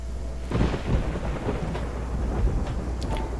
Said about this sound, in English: is followed by a single clap of thunder